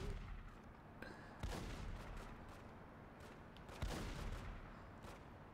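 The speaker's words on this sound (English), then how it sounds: "Who's actually shooting?" Gunfire in The Godfather: Don's Edition video game comes as two or three faint, muffled shots spaced a couple of seconds apart over a low background rumble.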